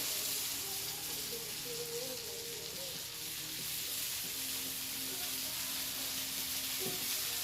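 Sweet potatoes in a pan with heavy cream being stirred in, a steady low sizzle and bubbling hiss with faint scraping stirs, close and continuous with no talking.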